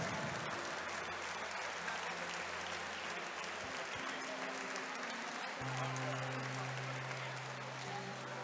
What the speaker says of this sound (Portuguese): Uma salva de palmas para os nossos atletas medalhados.